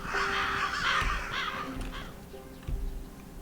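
A raven caws while feeding in the video game Stoneshard, giving harsh, raspy calls near the start with a couple of soft thuds, close and moderately loud, with no talking.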